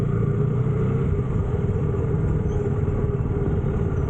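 Dense road traffic on a highway between Hyderabad and Mumbai, a steady broadband rumble of car and motorcycle engines that holds constant from start to finish with no talk.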